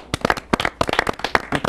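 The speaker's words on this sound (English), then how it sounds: "a huge round of applause to Mr. Campanella" Studio audience of a TV debate show applauding a guest, a dense burst of clapping with sharp individual claps throughout, fairly close and loud.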